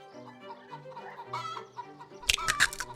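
Chickens in a hen house clucking in short, varied calls, with a sharper burst of squawking near the end; fairly close and clear, no talking.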